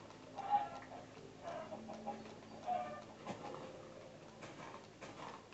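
Chickens in a video game cluck softly and intermittently, faint pecking-like clucks and ticks scattered across a quiet background, with no one talking.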